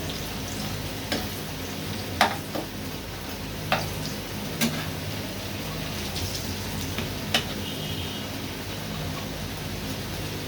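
Piyaju onion fritters fry in oil with a dense, continuous sizzle and bubbling, dotted with several sharp pops and crackles at irregular moments; no one speaks.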